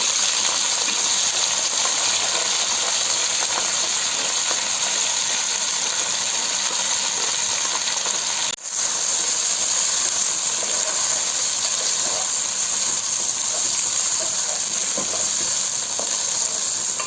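Mixed vegetables cooking in water in a pan, a steady loud sizzle and bubbling hiss running continuously and close by, with one brief dip partway through and no talking.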